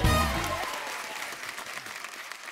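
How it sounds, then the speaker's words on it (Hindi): A television comedy-show studio audience breaks into applause, starting loud and full and then gradually thinning and fading over a couple of seconds. "एक बार जोरदार तालियां फरा मैम और रवीना जी के लिए।"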